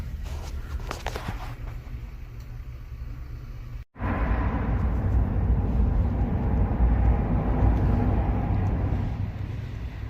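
Rumble of a moving freight train ridden between Pittsburg, Kansas and Joplin, Missouri, a loud, continuous low roar with faint rattling that cuts out briefly before returning fuller and louder.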